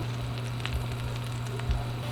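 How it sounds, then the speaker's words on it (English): Soft, continuous sizzling of chopped garlic frying in hot oil with faint crackles, close up under a steady low hum. "Add 1 to 2 tablespoons of chopped garlic. Switch this up a little bit. Oh, starting to sizzle."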